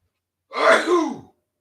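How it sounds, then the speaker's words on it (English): A man reading aloud breaks off for a single short sneeze, a sharp close burst lasting under a second, alone in otherwise silent surroundings. "Oh my goodness, I got to sneeze."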